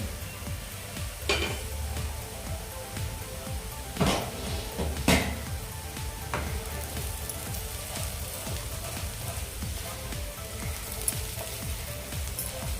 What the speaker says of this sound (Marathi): व्यवस्थित असे असे मिक्स करून घेऊया